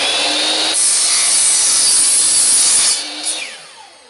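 A hand saw cuts through a rod for a Halloween prop scissor mechanism, a steady rasping stroke running close and loud for about three seconds before trailing off into a few lighter scrapes.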